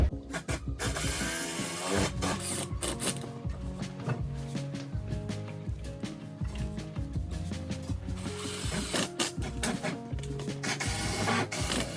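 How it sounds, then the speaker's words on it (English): A screwdriver or power driver sets screws into pre-drilled holes in a ceiling to hold an electrical box, giving a close mechanical whir and ratcheting grind in bursts with short breaks. "So, got some screws started here, pre-drilled to hold that in."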